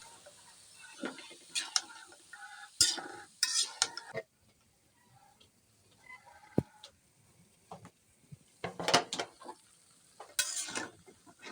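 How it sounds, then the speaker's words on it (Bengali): Fried hilsa fish is stirred through spices in a pan with tender stalks and potato: irregular bursts of metal scraping and clinking come close up, separated by quiet gaps. "নেড়ে চেড়ে মশলার সাথে মিশিয়ে নেব"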